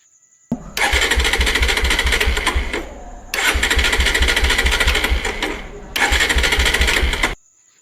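A Bajaj Pulsar 125 BS6 motorcycle with an ECU and current-supply fault, its self-starter cranking in three separate bursts of rapid mechanical whirring, each several seconds long, close and loud with short silent gaps between.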